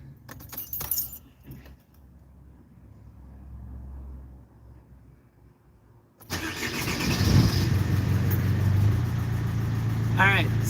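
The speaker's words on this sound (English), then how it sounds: "All right, I'm starting Van Diesel up." Keys jangle close by, then a pause. A van's engine cranks and catches, settling into a steady, loud idle with a rough, rumbling tone.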